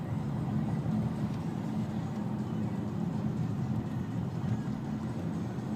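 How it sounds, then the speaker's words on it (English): Loud, steady engine rumble from a 2012 Nissan Maxima running with an aggressive, louder-than-stock tone, a constant low drone heard up close with no talk. "Like, the engine sounds very aggressive."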